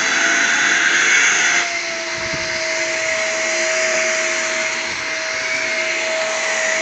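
Shark Navigator vacuum cleaner running steadily nearby. A loud, continuous motor whine and airflow roar dip slightly partway through, with a faint rumble of movement and no speech.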